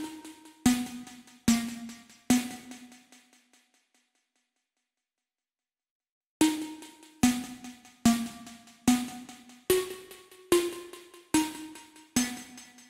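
A synth plays a melody of plucked, decaying notes, three notes, a pause of silence, then seven more in steady rhythm, each ringing out clearly.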